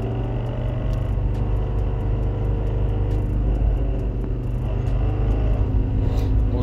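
A Ford Focus ST Mk2 five-cylinder engine with a broken gearbox, in first gear, rumbles steadily with a harsh, grinding drone and faint rhythmic ticking, loud and close, without any talking.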